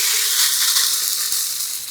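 Tofu sizzles in a lightly oiled frying pan, a loud, steady bright hiss of frying that fades slightly toward the end.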